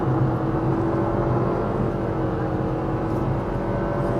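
2025 Nissan Kicks with a 141-horsepower engine accelerating up to speed, heard from inside the cabin as a steady, droning engine and road hum that holds evenly throughout.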